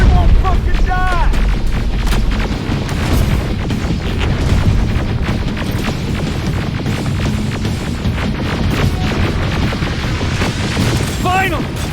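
Rocket and grenade explosions in the video game Terminator Resistance, a dense run of booms and gunfire-like blasts throughout, loud and close, mixed with other game effects and voices.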